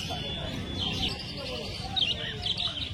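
Cockatiels and lovebirds chirp and tweet at the Garia exotic bird market in Kolkata, a busy mix of high calls over a steady background murmur.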